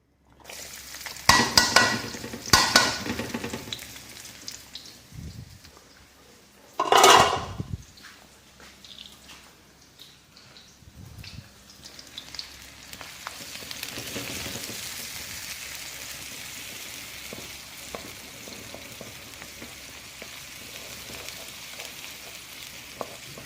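Noodles with egg, carrots, mushrooms, garlic and onion sizzling loudly in a hot pan, with bursts of stirring and utensil scraping early on, then a steady frying hiss that continues to the end.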